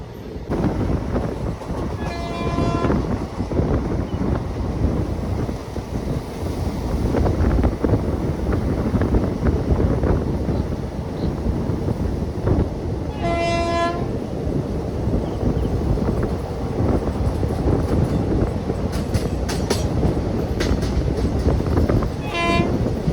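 Vanchinad Express rumbling along the rails after leaving Kottayam, a steady loud clatter of wheels and carriages with wind buffeting, and the horn sounding briefly a few times, once near the start, again midway and at the end.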